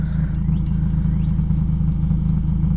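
An Etenwolf S1 tire inflator runs steadily while pumping air into a car tire, a loud, even motor drone with a fast pulsing rhythm, close by and alone.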